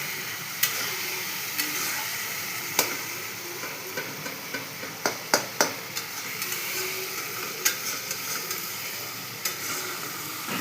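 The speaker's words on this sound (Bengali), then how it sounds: "ঢেলে দিয়ে একটু হালকা করে এটা একটু ফ্রাই করে নিই।" Vegetables, including peas and tomato for a cauliflower curry, fry in a wok with a steady sizzle, clear and close, with scattered ticks and scrapes of stirring throughout.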